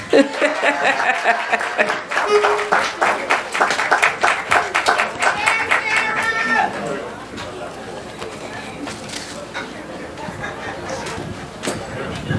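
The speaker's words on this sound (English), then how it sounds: "clap them on until they start" Audience clapping at a Bahamian rake 'n' scrape cultural event, loud dense applause with chatter and some laughter, thinning to quieter crowd noise after about seven seconds.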